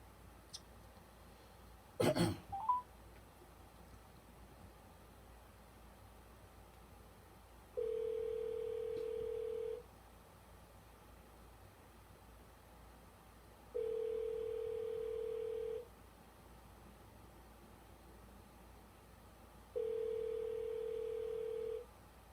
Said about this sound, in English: I don't know if the number is ringing there.